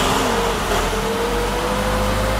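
A 1961 Mercedes-Benz 190 SL engine runs close by, revving steadily with a rising mechanical tone over a continuous mid-pitched rumble, and no voices.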